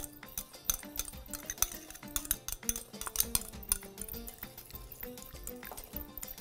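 Spoons stir through a bean salad with salt, pepper and onion in a bowl, making close, busy clinks and scrapes against the dish along with soft wet squelches, continuous throughout with no talking.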